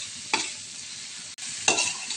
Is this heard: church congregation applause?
no